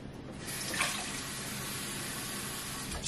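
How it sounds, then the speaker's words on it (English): Water runs steadily from a tap into a spray bottle, a continuous rushing splash that holds evenly for about three seconds with no voices. "you fill this almost all the way up with water"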